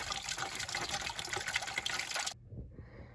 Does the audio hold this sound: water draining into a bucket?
yes